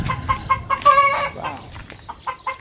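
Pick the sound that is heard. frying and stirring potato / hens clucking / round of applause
hens clucking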